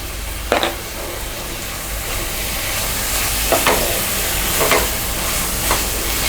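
Mutton biryani masala with mint, ginger-garlic paste, green chillies and a little chilli powder sizzles steadily in a pan while being sautéed, with a few sharp spoon scrapes and stirs standing out over the continuous frying hiss.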